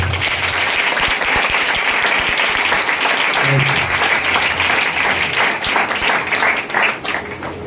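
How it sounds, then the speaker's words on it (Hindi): A church congregation at a Good Friday service claps loudly and continuously, a dense, sustained roar of hands that eases slightly in the final moment. "वो जोर से ताली को लगा दें।"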